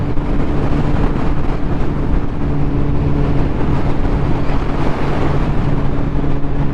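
Kawasaki Z1000R motorcycle engine running steadily while riding, a loud continuous drone with strong low harmonics and wind rush throughout.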